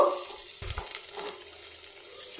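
Dal and roti snack tossed with chopped coriander in a pan, a soft steady sizzle under faint scraping stirs, with no talking.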